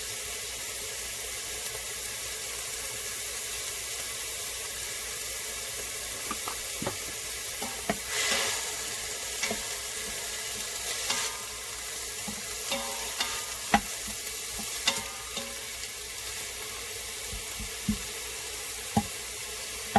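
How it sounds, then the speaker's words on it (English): Soup ingredients with onion sautéing and being stirred in a Pampered Chef Quick Cooker, a steady low sizzle broken by scattered clinks and scrapes of a utensil against the pot. "So we do want to cook this for about 3 to 5 minutes, stirring occasionally."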